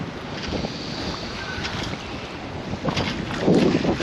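Strong 20 mph wind gusting to 34 roars steadily across a sailboat's microphone, with water rushing and splashing beneath and a heavier gust building near the end.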